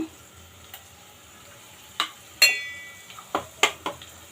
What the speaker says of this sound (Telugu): దీన్ని కూడా మనం పచ్చివాసన పోయే వరకు వేపుకుందాము